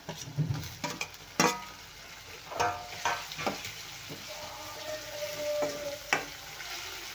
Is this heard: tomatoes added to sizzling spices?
yes